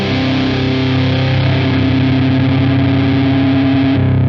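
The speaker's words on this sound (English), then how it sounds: "So the feedback part, gotta hold the pedal switch." Loud distorted electric guitar tone held as sustained feedback from a Boss Plugout FX pedal, a steady ringing overtone droning throughout before shifting slightly near the end.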